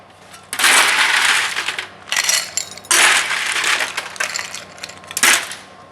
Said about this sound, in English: Fill that with ice.